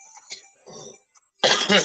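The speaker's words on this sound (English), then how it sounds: "a cough has started" A couple of faint throaty rasps, then a sudden loud close cough bursting out near the end.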